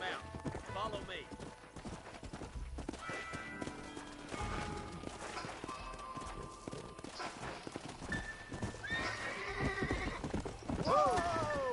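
Horses gallop and whinny in the Red Dead Redemption video game, hooves clopping loudly and continuously under shouted dialogue, with several sharp neighs rising over the hoofbeats.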